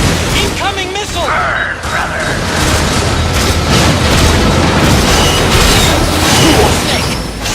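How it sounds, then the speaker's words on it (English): Missile explosions from the video game Metal Gear Solid 4 boom in a loud, dense barrage of blasts and crashes that rumble on without pause, with game voices talking over the din. "Incoming missile!"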